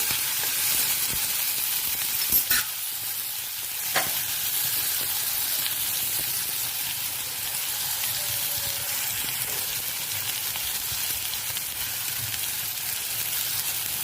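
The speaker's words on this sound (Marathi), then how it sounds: "बारीक चिरलेला कांदा, हा कांदा पण व्यवस्थित फ्राय करून घेऊ।" Finely chopped onion frying in a pan while cooking beet greens, a steady close sizzle that carries on through the clip, with a couple of faint metal taps from stirring.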